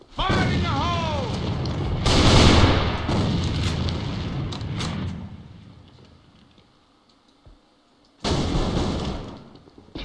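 A grenade explosion in the video game AVA lands as a loud, broad boom, then the roar fades over several seconds. A second heavy blast follows near the end, and voices run underneath.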